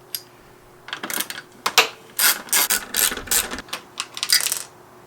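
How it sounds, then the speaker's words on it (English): A hand ratchet removes two 10mm bolts from car panels, giving several quick bursts of close, sharp clicking with short pauses between strokes, no talk. "next step is to remove these two 10mm bolts."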